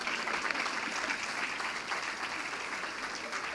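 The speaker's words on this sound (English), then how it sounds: "Please give us a round of applause." Applause from an audience at a scholarship awards evening, a dense, steady patter of many hands clapping continuously at moderate distance, heard alone without talk.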